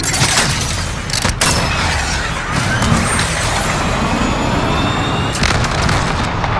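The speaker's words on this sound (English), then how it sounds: "Jaguar, missile away." Missile launch and explosion in the Modern Warfare video game, heard as a loud, continuous roar and rumble with sharp booming transients and whooshing streaks layered over dense battle noise, with no talk.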